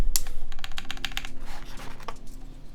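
Keycaps pressed onto a Keycult 1/60 keyboard with a standard ANSI layout, giving a quick run of sharp, light plastic clicks and snaps up close, irregular in rhythm.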